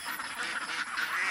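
A flock of ducks quacks by water in Davao City, a brief, faint cluster of overlapping nasal calls over a hissy outdoor background.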